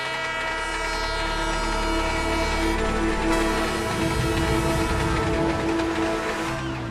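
A train runs in a Motu Patlu cartoon as a steady, loud rumble with a sustained horn-like drone that lasts throughout, with no voices.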